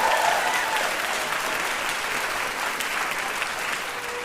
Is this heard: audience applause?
yes